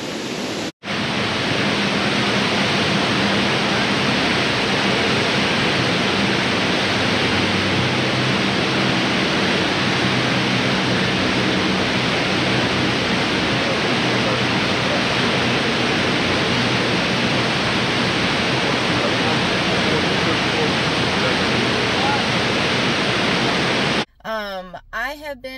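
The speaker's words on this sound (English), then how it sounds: "I have found my first waterfall in Oregon" Roaring waterfall beside the Historic Columbia River Highway in Oregon, a loud, steady broadband rush of falling water that fills almost the whole stretch without pause, cutting out briefly near the end.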